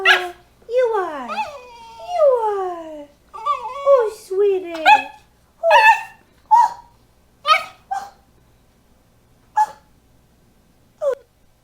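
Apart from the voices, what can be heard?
puppy whimpering and barking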